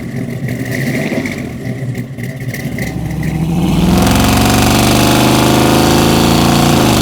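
A 1970 Camaro's engine burbles while cruising, then swells into a louder, raspy rev that holds strong, heard from inside the car.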